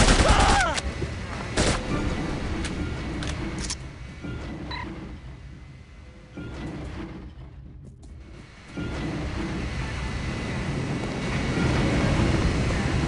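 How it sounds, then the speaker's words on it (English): Gunfire in The Operative: No One Lives Forever, a few sharp bursts early on, then quieter stretches under a steady windy, engine-like rumble. "Oh, they're firing!"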